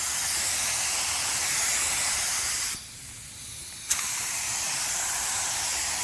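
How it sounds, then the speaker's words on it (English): A paint spray gun lays base clear on a tank in a steady loud hiss that briefly drops away mid-clip before resuming. "I have my gun all set here, so I'm going to hold the camera. I'm going to spray this"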